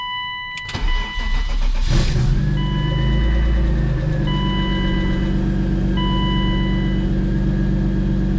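A turbocharged BMW E36 sedan cranks and fires up, its engine catching with a sharp burst and then settling into a loud, steady idle nearby, with a faint repeating electronic chime sounding over it.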